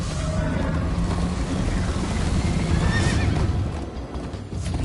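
A horse in a PS4 video game gallops with rapid rhythmic hoofbeats and lets out loud neighs over the pounding, close and prominent with no talking.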